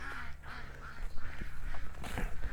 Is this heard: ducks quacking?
yes